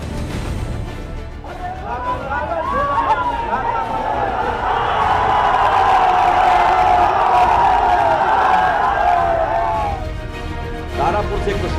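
At a Bihar political rally for Lalu, a huge crowd erupts in loud sustained cheering and whooping that swells to a peak mid-way and then fades, with general chatter around it.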